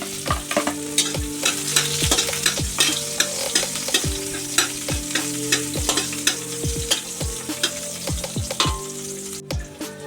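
Garlic and onion sauté in a pan under a constant bright sizzle, while a spatula knocks and scrapes against the metal in quick, steady strokes, close and loud.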